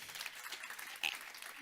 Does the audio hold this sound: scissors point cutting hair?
no